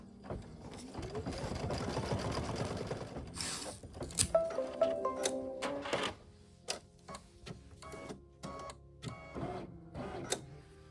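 Embroidery machine stitching a placement line for flexi foam on a spa-themed zipper pouch project, a steady mechanical whirring and ticking for several seconds, then intermittent clicks and short bursts as it stops and adjusts.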